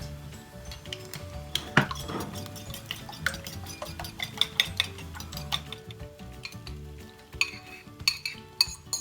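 Frittata egg mixture with black pepper being stirred in a bowl, quick repeated clicks and scrapes of a utensil against the dish, close and irregular.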